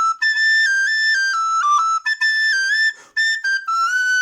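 An Irish hornpipe played on a descant recorder: a bright, clear melody of quick tongued notes in a lively bouncing rhythm, up close and alone, with brief breath gaps between phrases.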